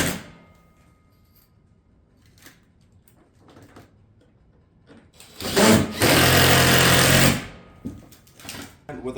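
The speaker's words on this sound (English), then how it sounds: "And then we'll put fasteners into our 2x2 header." A power fastener drives into a 2x2 header during a Pine Crest shake batten roof installation, giving one loud sustained burst of roughly two seconds. Light scattered knocks and handling noises come before and after it.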